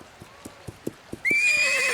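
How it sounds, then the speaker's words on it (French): A wild horse in a cartoon: a steady run of hoof clip-clops at a quick even pace, then a loud, shrill neigh breaking in and carrying to the end. "un cheval sauvage!"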